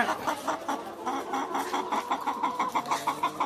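Peruvidai roosters cluck in quick, uneven bursts, several birds overlapping close by with a steady farmyard murmur underneath and no talking.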